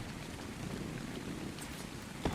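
Steady rain falling at night in ARK Survival Evolved on The Island, a continuous even hiss of raindrops with no voices, ending on a brief soft knock.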